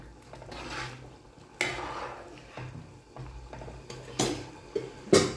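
Majboos biryani being stirred in a pot, with repeated scraping and clattering strokes of a utensil against the metal, several sharp knocks and bursts over a soft bubbling background.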